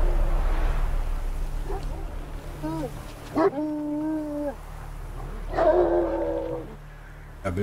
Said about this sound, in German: Wilde Hunde.